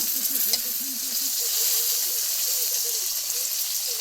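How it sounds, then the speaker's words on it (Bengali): Ginger paste and green chillies sizzling in a pan as they are stirred, a steady hiss with soft scraping, faint voices or background sounds murmuring underneath. "ভালো করে নেড়ে নেব দিয়ে দিলাম আদা বাটা কাঁচা লঙ্কা"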